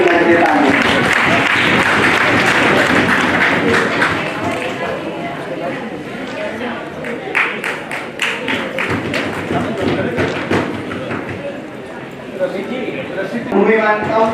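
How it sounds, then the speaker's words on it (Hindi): Audience applause fills an indoor hall at an award ceremony in India's parliament, a dense, sustained clapping that stays loud throughout and swells again near the end, with cheering voices mixed in. "इतनी कमजोर तालियां बजाओगे तो महिलाएं कहेंगी"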